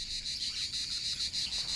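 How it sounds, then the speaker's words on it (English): Cicadas sing at dawn among sunlit trees on calm, cloudless days: a continuous high, shrill buzzing drone with a slight pulsing rhythm, steady and fairly close, with no voices. "the cicadas begin to sing at dawn when the sun strikes the trees"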